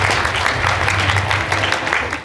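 An audience at a workplace reading-award event gives a warm, steady burst of applause to welcome a speaker, dense and continuous before tapering off at the end.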